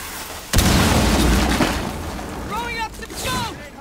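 A loud breaching blast tears open a floor hatch in the tactical shooter Rainbow Six Siege, a sharp boom followed by rumbling debris and lingering noise, with brief game voices and chirps trailing after.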